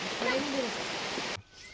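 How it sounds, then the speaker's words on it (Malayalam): Rain pours outside a small family home, a loud broadband wash under a person speaking. It cuts off abruptly partway through, leaving quiet. "മഴ സമ്മതിക്കുന്നില്ല"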